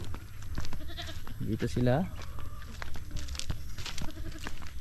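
Goats bleat nearby, one clear wavering cry standing out among fainter calls, while a person talks over the farmyard noise.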